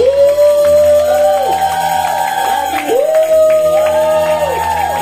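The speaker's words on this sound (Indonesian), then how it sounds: "Boleh beri tepuk tangan bagi Allah, saudara-saudara, dan sorakan" A church congregation at a Sunday service applauds and cheers, a steady wash of clapping and shouts with rising and falling whoops and tonal cries held throughout at even loudness.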